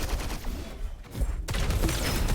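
Rockets fire during a one-on-one online arena shooter duel. Rapid, sharp bursts of weapon fire crackle close up, dip briefly in the middle, then resume with dense, overlapping blasts.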